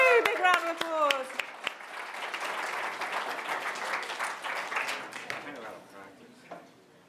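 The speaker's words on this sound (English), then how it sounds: "Big round of applause." A lecture audience gives a volunteer juggler a warm round of applause; a few excited cheering voices open it, then many hands clap steadily before the sound tapers off.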